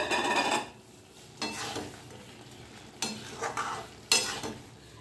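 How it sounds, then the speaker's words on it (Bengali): Lentil bora are dropped into a simmering potol and pumpkin curry, with a few distinct splashy, scraping bursts against the pan separated by quieter bubbling gaps. "বড়াগুলো ছেড়ে দিচ্ছি।"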